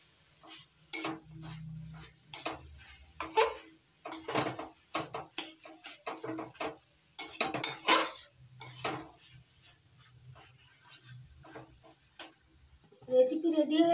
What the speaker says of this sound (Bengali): নারকেল কোড়া, এবার ভালো করে মিশিয়ে নিচ্ছি।